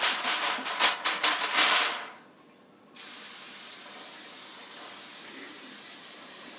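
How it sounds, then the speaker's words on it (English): Rapid bursts of aerosol cooking spray onto a 9x13 pan hiss in quick pulses for about two seconds, a short pause, then a steady continuous spray hiss close by. "Spray it where it don't stick to the top."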